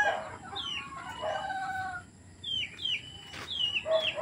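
Chickens in a breeding pen on a farm, several close clucks and short squawking calls in irregular bursts, with rustling between them and no voices.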